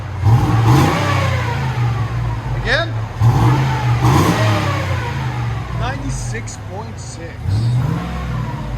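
A 2005 Cadillac Escalade 6.0L V8 with a Dynomax turbo muffler revs repeatedly with a deep, throaty exhaust roar, rising and falling in bursts while someone talks over it.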